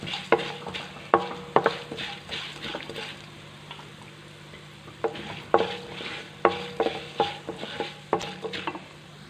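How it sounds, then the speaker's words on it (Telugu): Fenugreek and cumin seeds dry-roast in a pan for a tomato and red chilli pickle, with a soft sizzle beneath repeated sharp scrapes and clicks of stirring in irregular bursts, close and moderately quiet, no voices. "దోరలుగా వేపుకోవాలి."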